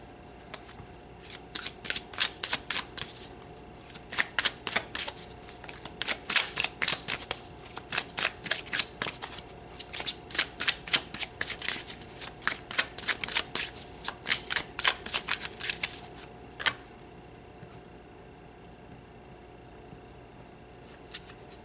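Tarot cards shuffled close by in repeated quick riffling bursts, crisp flutters that start and stop over about fifteen seconds and then give way to near quiet.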